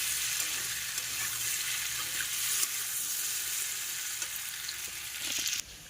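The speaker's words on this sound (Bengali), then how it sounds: "আর এখানে প্রায় আলু কষটা ভাজা হয়ে গেছে" Potatoes nearly finished frying in a pan make a steady, bright sizzle close by. Small utensil clicks sound now and then, and no one speaks until the hiss drops off abruptly at the end.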